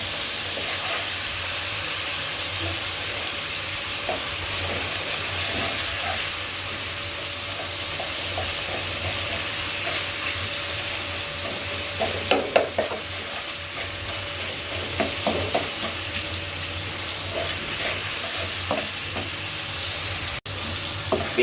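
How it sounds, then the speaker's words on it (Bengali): Large shrimp and chopped onion frying in oil in a wok, a continuous close sizzle with repeated scraping stir strokes that grow busier toward the end, no voices. "চিংড়ি মাছটা আবার প্রায় ভাজা হয়ে গিয়েছে।"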